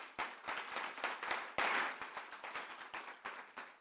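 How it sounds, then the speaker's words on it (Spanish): A church congregation claps together in a quick, uneven burst of applause, dense and fairly close, with no talking over it. "¿Le puedes dar un fuerte aplauso al Señor Jesús?"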